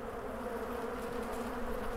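Honeybees buzz at a beehive during queen rearing, a dense, continuous, even drone of many insects close by with no voices.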